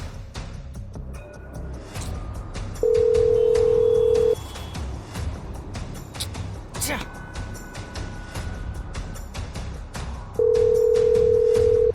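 A steady telephone call tone sounds in two long, even beeps separated by several seconds, with people talking over street noise in between.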